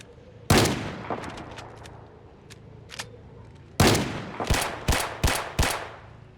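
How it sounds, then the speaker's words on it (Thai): Shotgun blasts in the zombie survival game Project Zomboid: one loud, close shot, a long pause with small clicks, then a rapid series of five sharp booming shots in quick succession. "ก็ใช้ลูกซองครับลูกซองก็ไม่ถึงนะยิง ยิงใกล้มาก"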